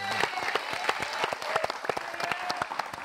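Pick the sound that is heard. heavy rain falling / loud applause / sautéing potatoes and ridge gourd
loud applause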